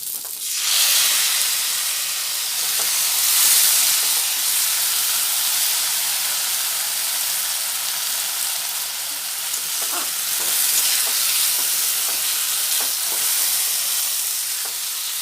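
Chili, cumin and ginger pastes mixed in water hit a hot pan and are stir-fried, giving a loud, continuous hissing sizzle with occasional stirring scrapes underneath.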